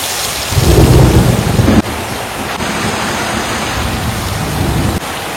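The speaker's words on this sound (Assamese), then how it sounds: "এইফালে বৰষুণ চাও এইফালে" Heavy rain pours steadily on a village home with a loud rumble of thunder near the start, then continued broadband rain hiss to the end.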